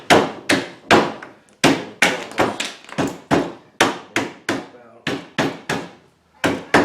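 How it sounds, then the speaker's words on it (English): A hammer strikes wood pieces in a quick run of sharp, close knocks, about twenty blows in irregular bursts with brief pauses between groups. "what we're going to do is take a hammer. Doesn't matter what kind of hammer you got, really."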